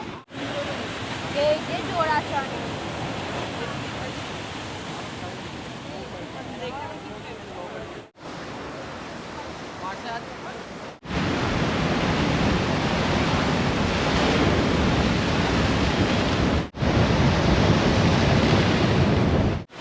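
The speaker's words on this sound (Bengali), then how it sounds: "সমুদ্রের একেবারে উত্তাল ঢেউ" Rough high-tide sea at Digha beach, with waves crashing and surf roaring continuously and loudly, broken into several segments, and wind buffeting the microphone.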